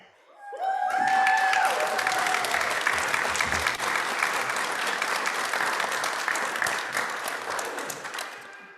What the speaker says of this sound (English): do not hold your applause until the end, but feel free to for each of them